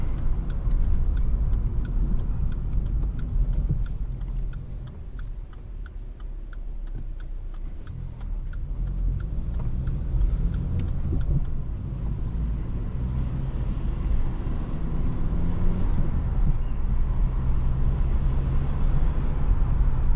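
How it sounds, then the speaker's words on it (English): Vauxhall Corsa accelerating on a B-road with the windows down, a steady loud engine rumble and road roar with a faint rapid ticking over it, continuous throughout with no talking. "when it accelerates it makes this weird noise when you've got the windows down"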